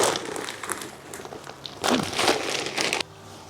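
Land and sea compost is tipped and worked into the soil of a large garden planter box, giving crumbly rustling and crunching scrapes in bursts, close by, with a louder gritty pour near the end.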